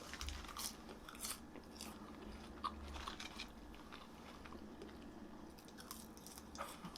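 Close, quiet crunching and chewing of Wendy's seasoned fries, cut as very narrow wedges, with a few crisp bites standing out over steady mastication and no talking.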